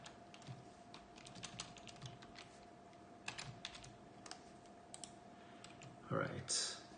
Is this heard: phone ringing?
no